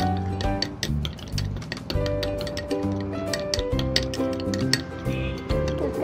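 A spoon mixes turmeric and aloe vera paste in a bowl, giving repeated light clinks and scraping taps in a quick irregular rhythm, close and fairly quiet.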